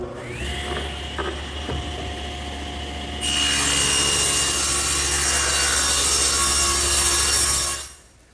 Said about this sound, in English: And I'll rip that right here on the table saw.